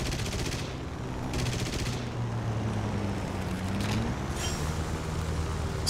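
Tank cannon and machine-gun fire in the War Thunder video game, repeated bursts over a steady engine rumble, loud and close throughout.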